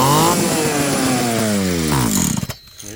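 A Pioneer chainsaw engine fires and runs loudly up close, its steady snarl sliding lower in pitch before cutting out abruptly near the end.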